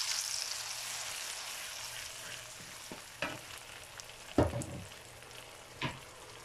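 Tomato puree sizzles in hot oil with garlic for pizza sauce, a steady hiss with a few sharp spoon scrapes and one louder splutter as it is stirred, close by and without voices.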